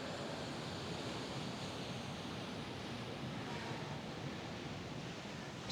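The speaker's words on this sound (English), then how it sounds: "You can see the waves crashing." Ocean surf breaking steadily on a Cozumel shoreline with blue water, a dense continuous wash of waves rolling in and crashing, close and loud with some wind noise and no voices.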